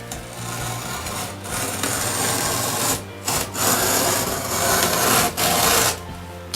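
A utility knife slices through a cardboard box, a rough continuous scraping rasp in long strokes broken by short pauses, close up with no voices.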